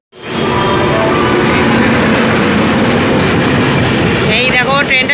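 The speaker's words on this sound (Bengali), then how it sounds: "এই দেখো ট্রেনটা ঢুকে গেছে, হাওড়ার থেকে আসছে ট্রেনটা" A passenger train from Howrah pulls into a station in Chhattisgarh, a loud, close, continuous rumble and rattle of wheels and carriages that rises in at the start and holds steady, with voices faintly audible near the end.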